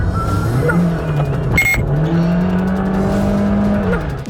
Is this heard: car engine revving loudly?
yes